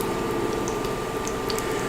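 Falafel balls frying in a pan of hot oil, giving a steady dense sizzle and bubbling crackle with faint scattered pops, close and continuous with no voices.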